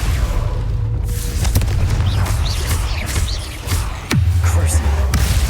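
Fiery Confringo spell blasts in Hogwarts Legacy during a cave fight, a loud booming burst over dense game sound effects, with a sharp hit near the end followed by a low rumbling swell.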